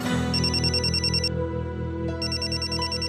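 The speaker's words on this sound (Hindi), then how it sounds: "देखिए एक फोन आ रहा है, बहुत जरूरी है।" A telephone rings with a bright electronic trill in two close bursts separated by a short pause, loud and near over a low background hum.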